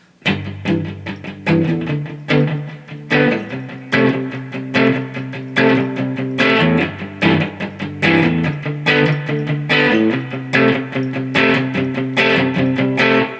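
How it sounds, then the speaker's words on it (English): An electric guitar plays a bluesy root-fifth, root-sixth rock and roll rhythm pattern for a song, with chugging, evenly repeated two-note chords in a steady shuffle, loud and alone. "the first thing we're going to learn for the verse is this typical rock and roll pattern"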